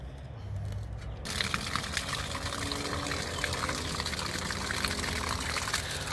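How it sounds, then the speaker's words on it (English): Water poured into a freshly dug planting hole for a lemonade tree in clay soil treated with gypsum, a steady gushing and splashing stream that starts abruptly and keeps flowing. "Water that hole, George."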